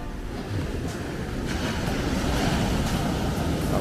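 Ocean surf washing onto the beach at Prado, Bahia, a loud steady roar of breaking waves mixed with wind buffeting the microphone.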